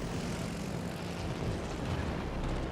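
Propeller engines of a fighter plane squadron in the World of Warships video game drone as a steady, faint, broad roar throughout, with no talking.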